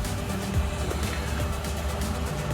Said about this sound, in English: Sorry for the fan noise, that's just the refrigerator going.